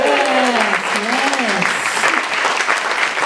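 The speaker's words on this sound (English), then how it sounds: "Okay, round of applause." Loud, dense audience applause fills the room throughout, with voices calling out over the clapping near the start.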